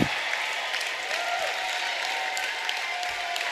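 Crowd applause at a high school volleyball match after a close fourth set, a steady wash of clapping and cheering from the stands at moderate distance.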